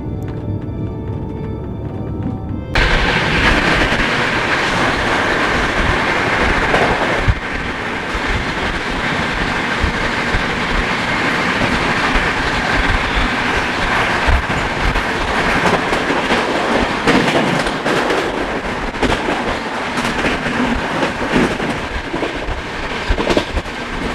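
Sealdah Rajdhani Express rolls through Prayagraj Chheoki junction, a loud continuous rumble with rhythmic clickety-clack of wheels over rail joints heard from inside the moving train.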